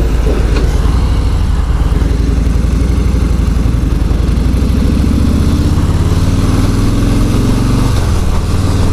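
A 2018 Harley-Davidson Street Bob FXBB Softail motorcycle rumbles steadily under its rider, a loud, continuous low engine drone whose pitch sweeps up and down through gear changes and a downshift.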